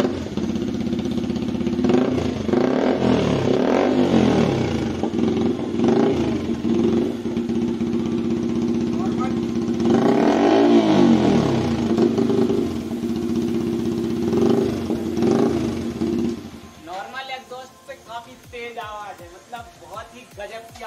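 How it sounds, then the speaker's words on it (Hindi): Yamaha MT-15 BS6 motorcycle fitted with an aftermarket exhaust, close and loud, idling with repeated throttle blips that rise and fall in pitch, before the engine is shut off and people talk briefly at the end. "आपको आवाज़ सुनाएंगे एग्जॉस्ट की,"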